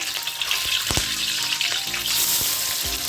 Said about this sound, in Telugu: ఆయిల్ వేడైందండి. ఇప్పుడు కొంచెం చెక్క, లవంగాలు వేస్తున్నాను. ఇప్పుడు ఉల్లిపాయలు వేసుకుందాం.